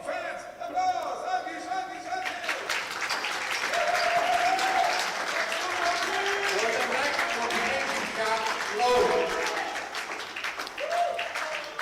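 Spectators at a men's 10m air pistol gold medal match keep up loud, sustained applause and cheering throughout, with a commentator's voice running over the crowd noise.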